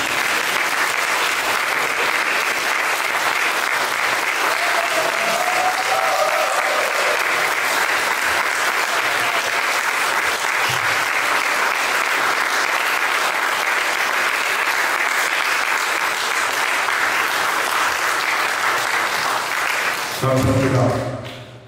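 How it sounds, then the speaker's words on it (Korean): Sustained, loud audience applause fills a New York gathering of an international election-monitoring meeting, steady dense clapping for about twenty seconds before breaking off abruptly near the end. "다시 한번 큰 박수 한번 부탁드립니다"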